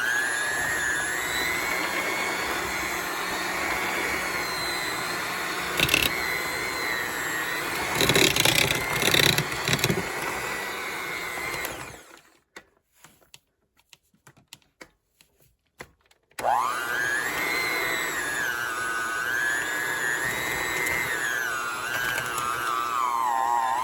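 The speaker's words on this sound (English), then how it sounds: "So now we're going to mix it with a hand mixer" Electric hand mixer beating cream cheese with granulated sugar for a Basque cheesecake, a steady close whirring drone that pauses for a few seconds of near silence, then resumes.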